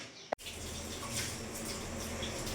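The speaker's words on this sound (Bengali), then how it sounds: "এইভাবে একটা একটা করে কুমড়ো পাতাগুলো ভালো করে ধুয়ে নেব" Pumpkin leaves are rinsed one by one under running tap water, a steady close splashing stream that starts abruptly after a short click and continues without talk.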